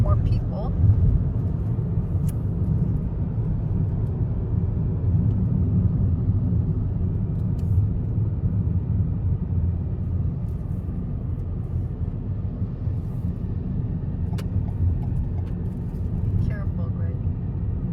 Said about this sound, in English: There's the bus tour